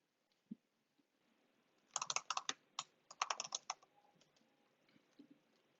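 Typing on a computer keyboard, a quick cluster of crisp key clicks in two short runs after a couple of isolated taps, close and fairly quiet with no speech.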